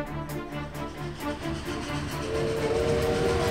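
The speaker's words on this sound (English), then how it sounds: "Is that a train?" A steam train in the Persona 5 Tactica video game runs with a steady rumbling chug, and a sustained steam whistle builds toward the end. No one speaks over it.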